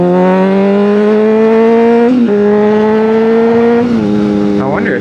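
A voice imitates a rumbling diesel pickup truck, a steady buzzing drone with two brief pitch dips, loud and close, ending in a rising whine.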